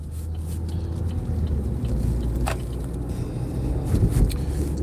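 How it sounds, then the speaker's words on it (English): Road traffic heard from inside a moving car, a steady low rumble of engine and tyres with passing vehicles swelling briefly, muffled and continuous. "There's so much traffic."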